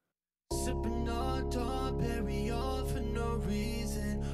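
Vocal channel in FL Studio, downsampled and bitcrushed to a lower bitrate, plays within a dense, loud music mix with steady tones that continue without a break after a short silence at the start.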